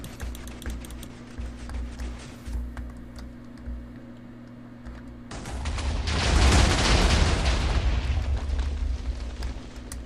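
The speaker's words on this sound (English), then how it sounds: "I'm sure you want to see the explosion, so let's trigger it." A TNT blast goes off in a Minecraft-style video game after a stretch of quiet clicking, as a loud roaring explosion swells and rumbles for several seconds before slowly fading.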